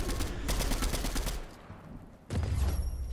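Sustained automatic gunfire in Fortnite while shooting down an enemy above, a loud close burst that breaks off into a brief quieter gap, then resumes as another dense volley.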